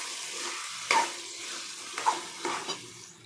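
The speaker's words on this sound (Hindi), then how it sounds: "अभी ये जो बैंगन था ये मैं इसमें डाल दूंगी, मैं इसे अच्छे से स्मैश कर लूंगी।" Chopped eggplant drops into a hot pan and is smashed and stirred, giving a steady sizzle with a few sharp scraping and tapping clicks from the utensil against the pan.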